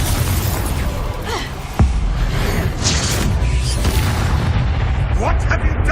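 Confringo blasting spell in Hogwarts Legacy, a sharp booming explosion bursting out abruptly partway through, followed by a rumbling fiery roar and scattered crackling debris under dense game noise.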